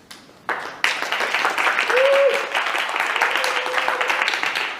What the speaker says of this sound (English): It's always most fun when the applause is at the beginning